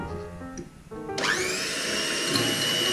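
An electric mixer whips egg whites and sugar for fluffy pancakes; after a quiet start, the motor switches on and settles into a steady, close, high whirring drone.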